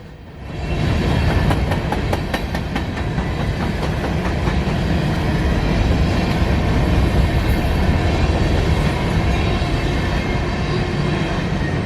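A freight train rumbles past close by in Kingston on the W&A line, a loud continuous roar with rhythmic clickety-clack of wheels over rail joints, sustained throughout.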